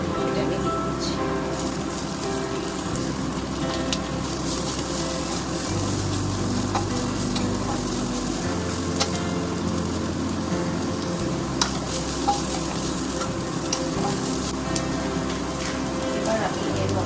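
Carrot and capsicum stir-fried in a pan for chicken spring roll filling, giving a steady broadband sizzle that runs the whole time, with a faint background hum and occasional small clicks.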